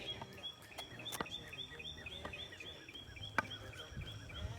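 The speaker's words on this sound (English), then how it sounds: "I love the sound of the birds" Birds chirp and call outdoors on a breezy morning, faint, with scattered short tweets over soft wind and ambient noise.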